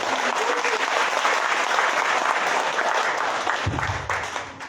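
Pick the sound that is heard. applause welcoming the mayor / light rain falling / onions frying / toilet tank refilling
applause welcoming the mayor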